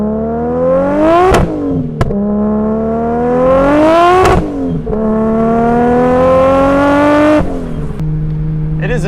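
A 500-horsepower Nissan 240SX S14 with a GT-R engine swap revs hard and loud up through the gears, the pitch climbing then dropping sharply at each shift before settling to a lower drone.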